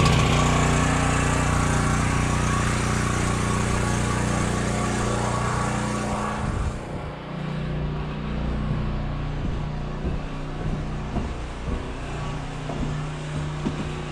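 Small engine at an off-grid cabin running steadily after a choked start, a loud close drone that eases slightly partway through, with some clunks and rattles afterward.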